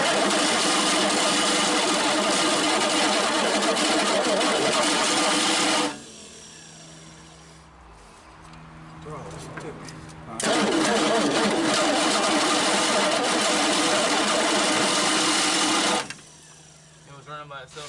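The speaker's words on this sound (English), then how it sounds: "I'm hoping that starter's going to kick out. That's the noise we're hearing." A 1961 Dodge Lancer, first start in 30 years, runs in two loud, buzzing stretches with a whirring starter that fails to disengage, separated by a quieter gap where people talk.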